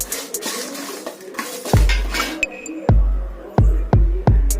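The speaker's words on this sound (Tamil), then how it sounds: "எடுத்து தட்டத்தில் கொட்டிக்கோங்க." Roasted spices tipped out of a metal pan onto a plate, a run of sharp clanks and knocks of metal on metal with light rattling, close and loud, without talk.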